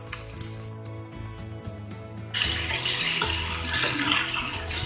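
Marinated chicken added to a hot pan of softened tomatoes for kozhi uppu kari, a steady sizzle that jumps sharply louder halfway through as the meat goes in, with a low hum underneath.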